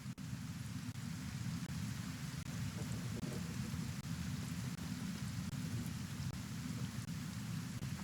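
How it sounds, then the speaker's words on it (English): Steady rain pours over open plains in the game Kenshi, a constant dense hiss, with low rolling thunder rumbling underneath and no voices. "I want to get out of this darn rain."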